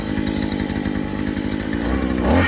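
A gas-powered earth auger engine runs at a steady, loud two-stroke drone with a fast, even pulsing throb, rising slightly in pitch at the end as the throttle opens, with no talk.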